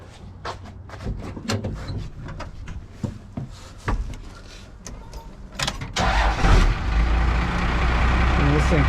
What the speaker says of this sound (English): The old Cummins, no glow plugs or nothing, it just cranks right up.